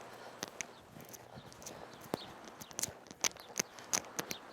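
Horse hooves clop at an irregular walking pace on firm ground during barrel racing, fairly faint at first and growing slightly louder and busier toward the end.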